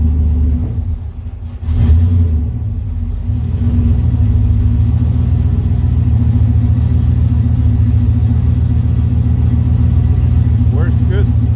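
A car engine run by a Megasquirt ECU idles loudly and close by, its low rumble rising and settling at a higher steady idle as the transmission goes into gear.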